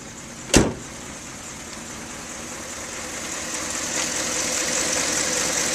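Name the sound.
1962 Ford Galaxie 500 engine idling quietly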